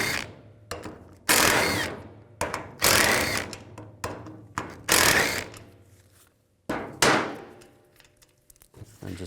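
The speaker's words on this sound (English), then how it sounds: "I'm going to use a 13mm socket." Loud, close ratcheting of a 13mm socket wrench removing radiator fan clutch bolts on a 2000-2004 GMC Yukon, in repeated bursts, each a quick clattering series of clicks, with brief pauses between strokes.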